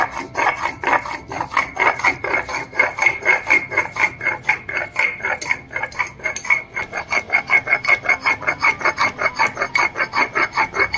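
Cumin seeds with a splash of water are ground on a stone slab, giving a rhythmic series of rasping scrapes that speed up toward the end, close and alone.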